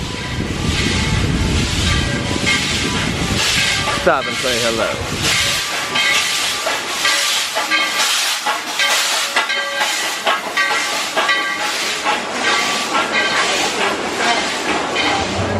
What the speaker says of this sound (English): So we got the train coming through though.